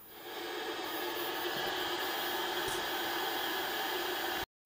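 A vintage 1987 Saisho CT141X television set powering up with working sound, giving a steady loud hiss of static noise with a faint high whine that cuts off abruptly at the end.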